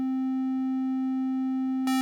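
A sustained triangle wave tone from a synthesizer keyboard holds one steady pitch with soft, thin upper partials, then turns abruptly brighter just before it ends; no voices accompany it.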